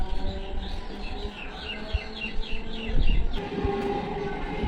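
Steady low rumble of a train rolling past, with bird chirps above it and a brief clatter near the end.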